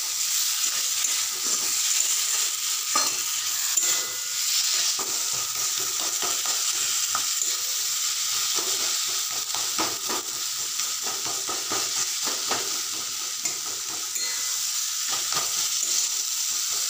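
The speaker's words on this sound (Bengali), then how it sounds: "এবার আলুটা দিয়ে দেবো, একটু আলুটাকে কষে নেবো মশলার সাথে।" Potatoes frying in spices in a pan for a spicy egg masala curry, a steady loud sizzle and hiss running throughout with frequent scraping clicks from stirring, no voices.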